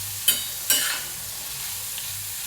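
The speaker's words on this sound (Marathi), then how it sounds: "लवकर कांदा परततो।" Onion sautéing in a pan with salt for egg bhurji, a steady soft sizzle with two brief louder stirring scrapes near the start, close and alone without talk.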